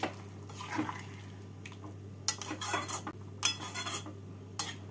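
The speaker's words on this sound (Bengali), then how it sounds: "জল দিয়ে নেড়ে নিচ্ছি।" Mutton liver is stirred in a pan after hot water goes in: quiet wet sloshing with a few sharp utensil clinks and scrapes against the pan, close, over a steady low hum.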